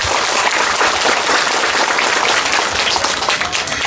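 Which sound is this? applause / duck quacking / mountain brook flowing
applause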